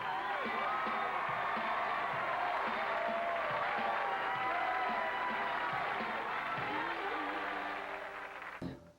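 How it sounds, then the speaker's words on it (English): Studio audience at a hidden-camera television show breaks into sustained applause with cheering and whoops, a dense continuous wash of clapping and voices that holds steady for most of the clip before tapering off at the end. "Round of applause for these 2 ladies"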